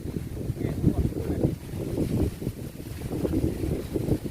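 A cool wind blows outdoors in rural farmland, producing a continuous low rumble of gusts buffeting the microphone that swells and eases throughout.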